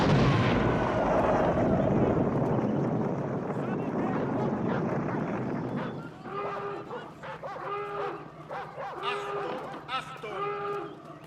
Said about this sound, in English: Achtung! Schwere Explosion im Abschnitt 1.